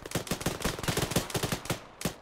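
Close bursts of ArmA 3 gunfire crack in quick succession, a rapid rattle of sharp shots over about two seconds with a final lone report, no talking.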